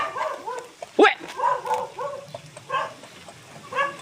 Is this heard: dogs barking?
yes